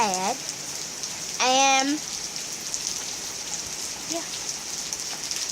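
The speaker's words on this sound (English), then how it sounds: "But this is basically the rain. It's like really bad." Heavy hurricane rain pours down in a dense, constant hiss, with a person speaking briefly over the downpour.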